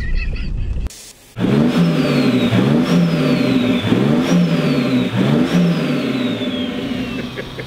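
A BMW M140i engine revs repeatedly, rising and falling in several loud close pulls after a brief lull, the pitch climbing and dropping in a steady rhythm with no voices over it.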